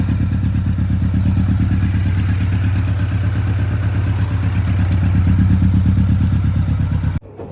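A newly bought project vehicle's engine idles after a starter relay fix, a loud, close, steady low throb with a rapid chugging pulse that runs unbroken until it cuts out near the end.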